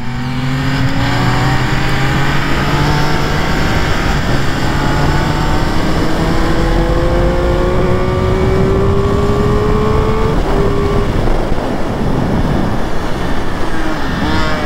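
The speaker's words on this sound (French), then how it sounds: "je pilote un Speed Triple 1200 RS" A Triumph Speed Triple 1200 RS motorcycle on the Carole race track, its engine loud and close, rising steadily in pitch under hard acceleration with no speech over it.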